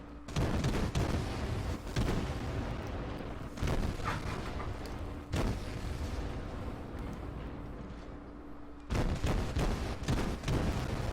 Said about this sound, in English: Who's firing his guns at that range